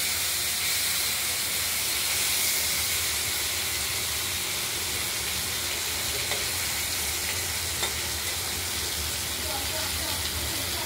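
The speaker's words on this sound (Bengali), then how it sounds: "আলুগুলো এই ফোড়নের সঙ্গে আমরা হালকা করে ভেজে নেব।" Potatoes lightly frying in a spice tempering in a pan for a katla fish curry, a dense steady sizzle and steamy hiss close up, with faint stirring clinks toward the end.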